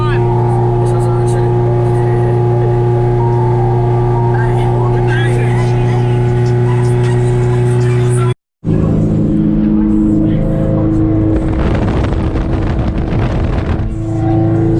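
Loud, steady droning engine tones from an EG hatchback with a Honda K20A2 swap, cut by a brief dropout, then a rougher, noisier stretch as it accelerates.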